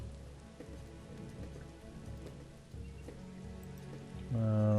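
Steady rain falling in the video game Banished, a soft continuous patter spread across the whole stretch, with a louder tonal swell near the end.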